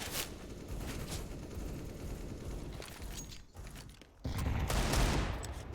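Dense gunfire from a professional Counter-Strike match on the Ancient map, with rapid overlapping rifle bursts and booms running throughout, briefly dipping before a louder burst near the end.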